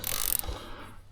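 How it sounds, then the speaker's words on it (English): A ratchet loosens a 14 mm bolt on the aluminium lower leg of a Yamaha F150 outboard, a brief close burst of rapid clicking that fades within about a second. "Next job is to take these bolts off here and 3 on the other side and 1 down through there."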